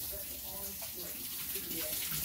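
Hot tap water running steadily while hands are washed under it during kitchen prep, a continuous close splashing hiss with a voice talking over it.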